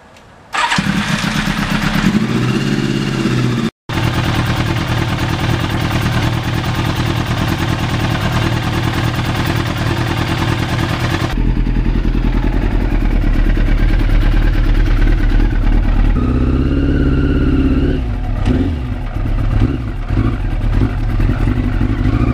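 A restored 1991 Yamaha FZR 1000 motorcycle cranks over and fires up, its engine running loud and steady close by with a brief dropout, then settling into a deeper, rumbling idle with slight revving, no talk.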